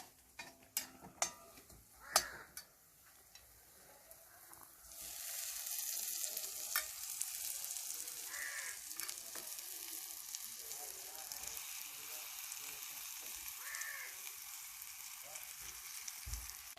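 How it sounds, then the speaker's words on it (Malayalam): Chicken for pepper chicken hits a hot pan and starts to sizzle after a few scattered clinks and knocks, then the loud, steady frying crackle continues close by, with occasional stirring scrapes. "അടുത്തായി നമുക്ക് ഇതിലേക്ക് ചിക്കൻ ഇടാം."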